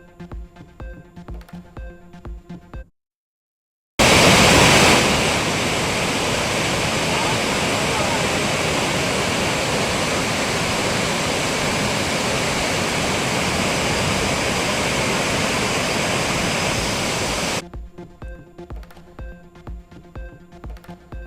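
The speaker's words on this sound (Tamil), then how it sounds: "குற்றால அருவிகளில் வெள்ளப்பெருக்கு" Courtallam waterfalls in flood after rain, a loud, steady roar of rushing water that fills the middle stretch, set between passages of music.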